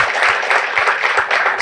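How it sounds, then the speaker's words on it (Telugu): A crowd at a youth meditation gathering applauds loudly, a dense and sustained burst of many hands clapping at once. "మీ అందరికి కూడా గట్టిగా చప్పట్లు కొట్టండి."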